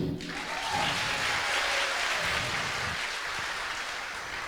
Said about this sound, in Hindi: तो बताइए जोरदार ताली।